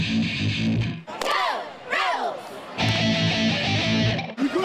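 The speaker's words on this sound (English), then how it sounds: "A big crowd and lots of fanfare greeted the Rebels as they took the field" Large stadium crowd roaring as the UNLV Rebels football team takes the field, loud and sustained, mixed with a brass band playing fanfare and a voice chanting over the noise.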